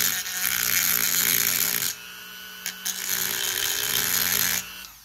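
A rotary tool with a conical grinding bit whines high and steadily, chamfering the firing pin block hole in a CZ Scorpion Evo 3 steel bolt, pausing briefly midway with short bursts, then stopping near the end.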